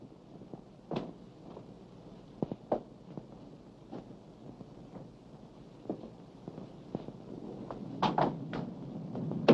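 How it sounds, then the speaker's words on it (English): Wooden door in an old house rattling and knocking in its frame as someone tries the locked handle, a series of irregular clicks and thumps that grow busier and louder toward the end, with no talk. "It sounded exactly as if someone was trying to pick the lock."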